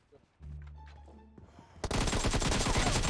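Rapid automatic gunfire in the mobile battle royale game PUBG Mobile, a dense, loud burst of shots that erupts after a short lead-in of game sounds and continues to the end.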